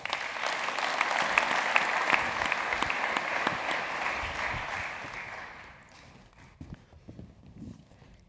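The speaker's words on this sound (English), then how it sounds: "A big warm welcome and applause for Liz Herbert." A conference audience at the 2014 Strategic Sourcing annual congress applauds a Forrester speaker being welcomed to the stage: full, steady clapping that fades out toward the end, leaving a few scattered claps and quiet room noise.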